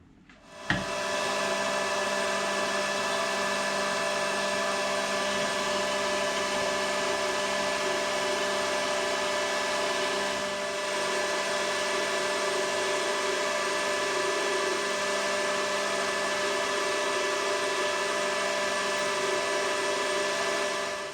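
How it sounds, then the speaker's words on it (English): A lathe starts with a sharp clunk, then a steady motor whine and hum runs continuously, with faint rubbing and cutting noise as it faces and drills a metal part, no voices. "we're going to face this off, drill and tap it 10/24 and then turn it down"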